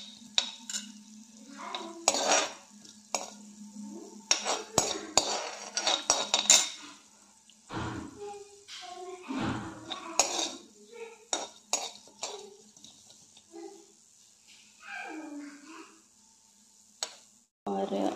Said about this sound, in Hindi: इसको भी हम थोड़ा तड़कने देंगे